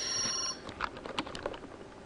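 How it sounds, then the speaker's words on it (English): A short electronic phone alert chirps clearly at the start, then fades into soft clicking and light tapping noises. "text received sound is actually stolen horribly"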